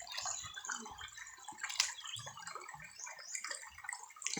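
Water runs steadily at an old outdoor communal washing place in a rural province, a continuous splashing and trickling close by with scattered drips and no one talking.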